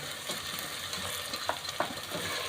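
Mutton being prepared in Dalda cooking oil in a home kitchen, with a steady close sizzle of frying under intermittent scraping and clinking of a spoon stirring the pot, no voices.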